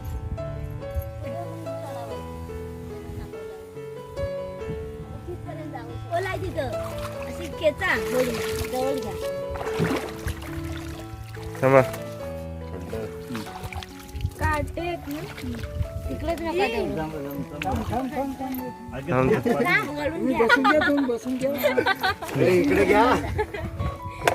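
A small boat crosses a flooded creek near Kelshi, Dapoli, with water splashing and sloshing against the hull under near-constant talk, including a voice, and some background music.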